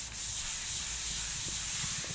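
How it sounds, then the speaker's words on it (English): A hard new sanding block rubs along plasterboard corner bead in a continuous close, steady scraping hiss with no pauses. "I'm just going to sand off any edges, get it nice and smooth."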